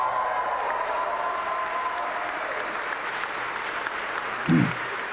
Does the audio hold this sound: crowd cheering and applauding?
yes